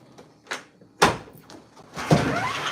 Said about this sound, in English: I got to get this door open.